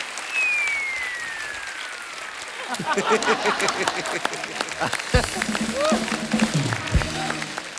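Studio audience on a TV comedy show bursts into loud, sustained applause after a short quiet opening with a faint tone, with cheers and voices mixed in as the clapping continues.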